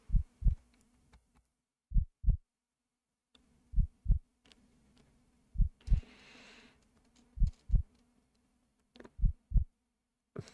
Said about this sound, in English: The only thing I hear is my heartbeat and the beast's heavy breaths.